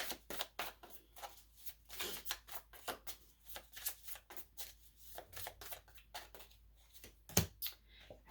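Tarot cards are shuffled by hand close up, a quiet series of quick, irregular flicking and riffling bursts with a sharper snap near the end and no talking.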